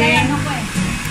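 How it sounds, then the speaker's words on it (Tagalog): A hair dryer blows steadily at close range during a hair rebonding session in a home salon, a loud continuous airy roar with faint background voices underneath. "Nag-blower siya."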